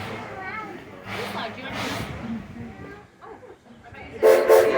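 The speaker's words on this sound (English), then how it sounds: "Enjoy the train ride." A Greenfield Village train departs the station with a rumble of rolling cars, and a whistle sounds near the end, while a voice speaks over it.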